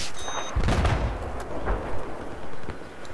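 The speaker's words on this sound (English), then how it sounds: "So many mortars." Mortar fire in Battlefield 4, several heavy booming impacts and rumbling blasts in succession with distant gunfire, dense and loud across the whole stretch.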